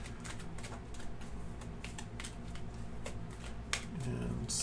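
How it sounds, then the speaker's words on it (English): A deck of tarot cards is shuffled by hand during a pick-a-card reading, producing a quick run of close, crisp riffling clicks and flicks while a voice speaks briefly. "So we'll go ahead and shuffle here and see what comes up."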